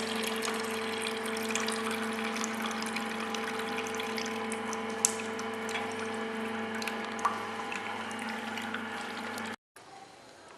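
ZJ150 table-top sugarcane juice machine running steadily, a continuous motor hum with bright tonal whine and faint liquid trickle, close and even, cutting off sharply near the end.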